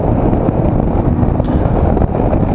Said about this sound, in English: the acceleration on this bike is just nice. This engine's got a lot of low down power